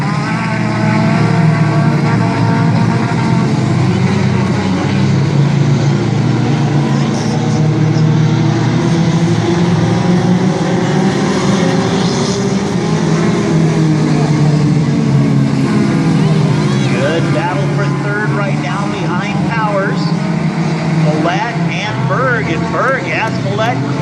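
Outlaw tuner race cars roaring around an oval track, loud overlapping engines rising and falling as cars pass and slide, with a commentator talking over the racing throughout.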